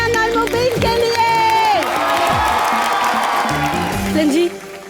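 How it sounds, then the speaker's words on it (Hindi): Studio audience on a Hindi comedy show breaks into loud, sustained applause and cheering with whoops, a dense crowd roar lasting several seconds before cutting off. "जोरदार तालियां मन्यान और मुबीन के लिए"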